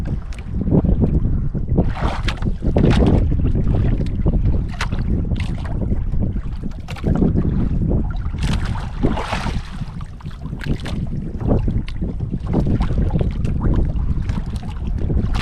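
Strong wind roars and buffets the microphone continuously, with rough gusty rumbling and no voices.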